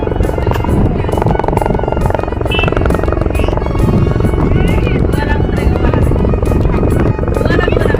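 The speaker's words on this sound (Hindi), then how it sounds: "हेलीकॉप्टर" The Chhattisgarh chief minister's helicopter landing at a youth festival ground, a loud, close, continuous rotor thrum and engine whine throughout, with people talking excitedly over the din.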